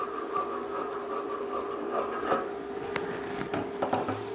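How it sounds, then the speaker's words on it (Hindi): Scissors trim excess lining fabric from a bridal prince-cut blouse, making soft, close rasping and rubbing sounds with a few faint snips, and nobody speaks. "नीचे से भी मैं इसके ये जो कपड़ा निकला हुआ है इसको मैं कट कर रही हूँ"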